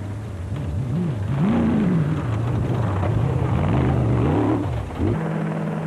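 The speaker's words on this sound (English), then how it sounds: "Helicopters heralded the whereabouts of the race leaders" Helicopters fly over an off-road race in 2005, a loud, continuous engine and rotor drone that rises and falls in pitch throughout and stays close and dominant.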